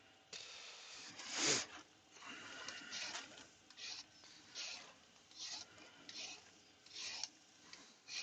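Abrasive rasping comes from a yew bowl being sanded on a wood lathe, with a tissue collecting the dust. Repeated close scratchy strokes arrive in irregular bursts, one louder pass standing out early.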